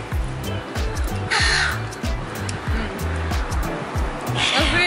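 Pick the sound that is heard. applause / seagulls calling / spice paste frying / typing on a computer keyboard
seagulls calling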